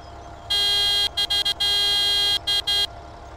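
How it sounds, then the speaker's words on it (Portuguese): A truck horn on a Case IH Titan 4540 in Farming Simulator 17 sounds in several bursts: one long blast, three short toots, another long blast, then two more short toots, loud and clear over a faint background hum. "Vamos ver a buzina, né?"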